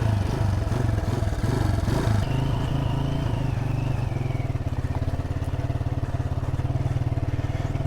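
A motorcycle rides a rough dirt trail, its engine chugging with a rapid, pulsing thump that rises and falls under clattering from the uneven ground.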